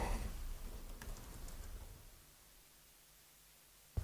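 Fingers tap out a command on a computer keyboard in a quick burst of close, light key clicks that fades to near quiet, with one sharp click at the end.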